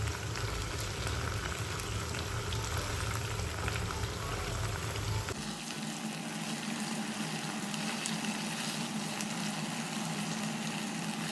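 Food frying in a pan after being turned over gives a loud, dense bubbling sizzle that shifts abruptly partway through to a thinner, lighter crackle that carries on to the end.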